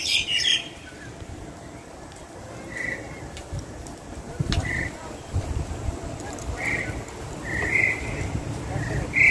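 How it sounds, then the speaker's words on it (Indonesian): Nias mynas calling outdoors at a spot where many jalak birds gather, with several separate bright, clear whistled notes spaced a second or two apart over a steady background hiss and low rumble, a burst of chatter at the very start. "Nah, ini burung jalak nias juga gacor."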